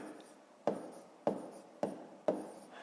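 Pen strokes on paper as numbers are written out for a school multiplication exercise, four short scratchy bursts at a steady pace, close and fairly quiet, with no voice over them.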